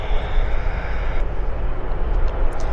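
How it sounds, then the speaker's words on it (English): An airliner taxiing onto runway 26 left at Vancouver airport, a loud continuous engine roar and whine filling the air from start to end, with no talking. "Taxiing on to the active here, runway 26 left for departure to Cowtown."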